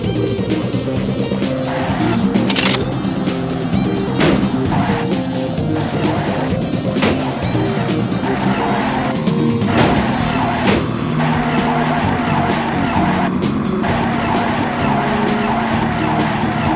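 In the video game Burnin' Rubber 4, a maxed-out car's engine hums continuously while tires skid and squeal repeatedly, with sharp impact-like bursts scattered through the run.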